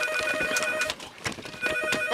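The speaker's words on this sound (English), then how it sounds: "That does sound like a phone, Mike." An old-style telephone rings in short repeated electronic bursts, loud and close, with clip-clop-like knocking between the rings.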